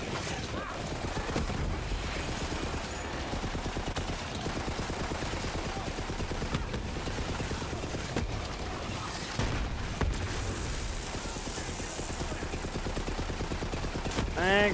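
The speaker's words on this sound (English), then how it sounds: "I get to try out this SMG now" Rapid bursts of SMG fire in the video game Borderlands 3, dense and sustained across the whole stretch over game music and effects, with a brief mechanical whine near the end.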